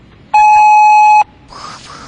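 A single steady electronic beep from an automated phone answering system, lasting about a second at a constant pitch, followed by faint background noise.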